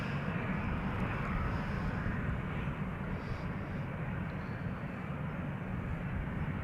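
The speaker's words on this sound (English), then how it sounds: "Helvetic Airways flight 731, that's an Embraer 195 AR." Helvetic Airways Embraer 195 jet, 14 years old, at Amsterdam Schiphol Airport, giving a steady, loud, broadband engine roar that holds evenly throughout with no talk.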